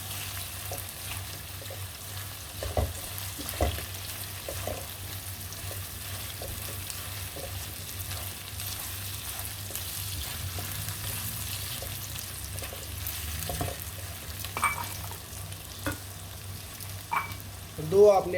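A spoon stirs cumin, salt and spices with tomatoes roasting in a pan for an arvi and baingan dish. A soft, steady sizzle runs under intermittent scraping taps, ending with a louder clatter.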